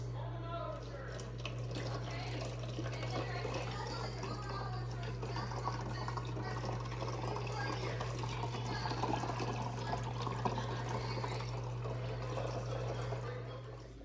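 Melted wax liquid is poured slowly out of a Grande lava lamp, a faint continuous trickling over a steady low hum, with talking in the background.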